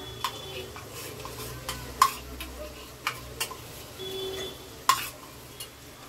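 Masala for homemade chana masala being stirred and fried in a pan, with ginger added: scraping stir strokes and clinks come at irregular intervals over a soft, steady sizzle, close and moderately loud.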